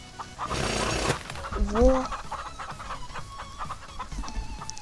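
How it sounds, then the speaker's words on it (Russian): A chicken clucks in a farm video game, a short burst of clucks and a rising call near the start, followed by quieter game sounds with someone speaking over it. "Умная курица, молодец."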